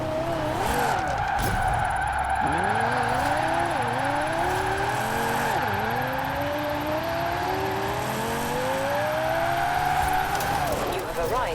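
A rear-wheel-drive Lexus IS F tuned to nearly 1300 horsepower drifts with its engine revving and its tires squealing and skidding steadily for several seconds, the pitch sweeping up and down as it slides.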